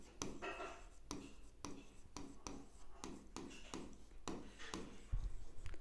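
A pen scratches across paper in quiet, regular strokes while an accounts practice entry is written out by hand, with short taps between strokes.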